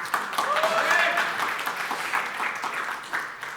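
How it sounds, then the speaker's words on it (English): An audience applauds at the 2017 Redmi 4 launch event, a steady wash of clapping from a large hall that fades gradually under a presenter's voice. "Getting a lot of applause."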